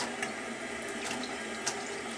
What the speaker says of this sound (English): then I use like a tepid water, not too hot, not too cold, and then I kind of get the whole mat wet